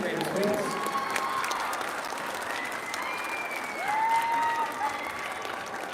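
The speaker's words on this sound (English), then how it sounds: "Can we get another big round of applause for Simcoe Elementary second graders, please?" Steady applause from an audience at an elementary school arts showcase for second grade performers, a continuous dense patter of many hands with some voices and cheers mixed in.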